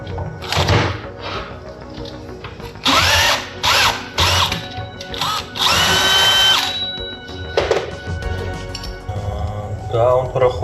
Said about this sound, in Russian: Сейчас я поменяю шуруповерт и еще посмотрю, что получается.